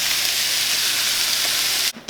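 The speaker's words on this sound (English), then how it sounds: "So now you just want to go ahead and put your chicken into that pan." Chicken frying in a pan, a steady broadband sizzle that fills the clip at even loudness and cuts off abruptly near the end.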